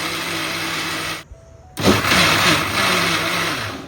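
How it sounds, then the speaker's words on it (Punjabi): A kitchen mixer blender whirs loudly as it purees mango pulp for homemade mango ice cream. It stops briefly, then the motor surges back to a steady high drone. "ਇੱਕ ਤੋਂ 2 ਮਿੰਟ ਲਈ ਅਸੀਂ ਆਪਣੇ ਮਿਕਸਰ ਤੇ ਇਹਨੂੰ ਚਲਾ ਦਵਾਂਗੇ"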